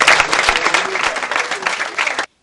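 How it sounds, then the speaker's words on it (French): An audience at a ceremony bursts into dense, energetic applause that holds steady for about two seconds, with a faint murmur of voices mixed in, before cutting off abruptly. "je vous demande d'applaudir."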